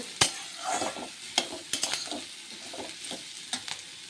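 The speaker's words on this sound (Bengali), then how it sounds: "সবজির মধ্যেই দিয়ে একটু নাড়িয়ে নেব" Raisins and dry-roasted cashews are stirred into frying vegetables for fried rice, with a low sizzle under a series of sharp spoon-against-pan clinks and scrapes at an irregular pace, close by.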